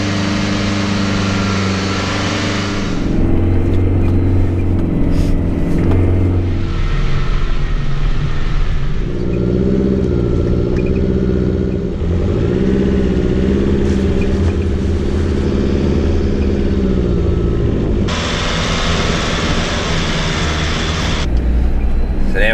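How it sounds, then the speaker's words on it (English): A 4WD vehicle drives down a steep section of the Blue Rag Range track, its engine a loud, continuous low drone with shifting load and rattles throughout. "Made it to the bottom of that first downhill steep section."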